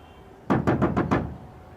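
Five firm knocks on a door come in a quick, even sequence, loud and close, with a faint room hum underneath and no talking.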